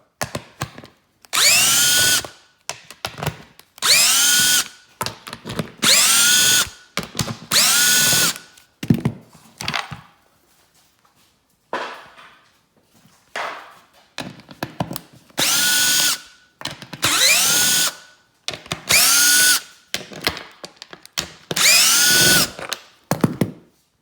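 A power drill backs out the bolts on a 2012 Precedent golf cart seat, whirring loudly in repeated short bursts with brief pauses and ratcheting clicks between them.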